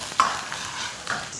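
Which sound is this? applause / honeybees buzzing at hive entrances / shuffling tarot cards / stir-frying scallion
stir-frying scallion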